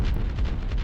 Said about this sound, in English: core hovercraft artillery, the T2 hovercraft artillery